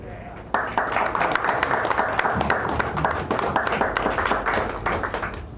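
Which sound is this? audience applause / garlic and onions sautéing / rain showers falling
audience applause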